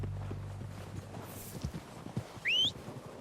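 Horse hooves clip-clop in Red Dead Redemption 2 as riders approach, irregular soft thuds under faint ambient game sound, with a brief sharp whistle-like call near the end.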